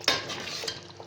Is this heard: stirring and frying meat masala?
yes